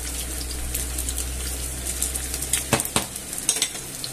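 Meatballs browning in a pan for a meatball paella, a low continuous sizzle that turns into a few sharp clinks and scrapes of a utensil turning them near the end.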